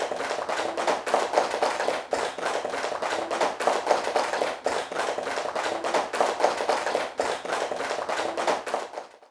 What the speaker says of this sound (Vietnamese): Xin cho một tràng pháo tay.